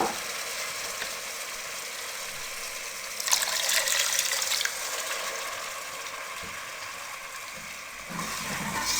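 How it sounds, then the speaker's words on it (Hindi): A cup of leftover boiled dal water poured into a sizzling spiced gravy for a chana dal palak dish, giving a loud hissing sizzle with bursts of splashing and bubbling, close up, with no talk. "1 कप पानी ये इसमें शामिल कर देंगे"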